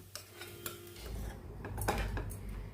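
Rice goes into a pan for quick fried rice and is mixed with spices, giving scattered metallic clinks and scrapes over a low rumbling background, moderately quiet.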